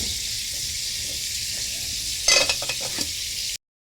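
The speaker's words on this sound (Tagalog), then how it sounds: "nagprito pa ulit kasi pang dagdag sa ulam" Steady sizzle of fish frying in a hot pan, a bright constant hiss broken midway by a few louder crackles and spatters, then cutting off abruptly.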